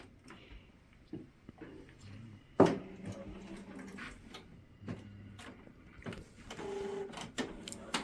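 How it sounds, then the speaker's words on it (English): An Epson ET-7700 inkjet printer powers on, with clicks, a sharp clunk and whirring mechanical movement rising and falling over several seconds, close by. "What I'm going to do is turn the printer on."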